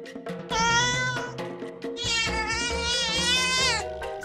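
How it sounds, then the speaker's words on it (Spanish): Candy Cat, a cartoon kitten, meows in two long, loud, wavering calls with a short break between them, clear and close with no talking. "Sí, este es un gatito y se llama Candy Cat."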